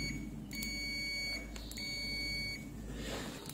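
Two short electronic beeps from an Aneng auto-ranging multimeter continuity test, each holding steady for under a second, sound faintly over a low background hum.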